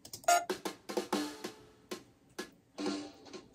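A jazz kit snare drum played with brushes gives soft, quiet swishes and light taps in a loose, uneven rhythm, close by, with no talk.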